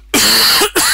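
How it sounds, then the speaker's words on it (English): A single harsh cough bursts out close and loud, followed after a brief gap by a second cough. "I've got this cough"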